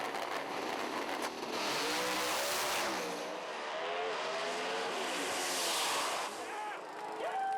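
Drag racing cars make a run in a 3-second pass at about 193 mph, a loud roaring engine blast sweeping in pitch over several seconds, with harsh high-end noise and tire sounds throughout.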